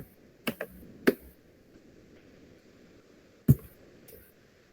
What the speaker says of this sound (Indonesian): saya akan mengetik